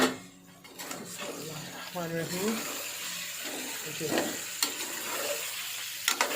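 Potatoes fry and sizzle in a pan for a potato curry as they are stirred, with a few clattering scrapes and a steady hiss, loud and close.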